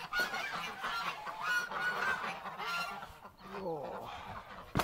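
Waterfowl honk and call in a loose, irregular series, fairly faint, over a busy outdoor background.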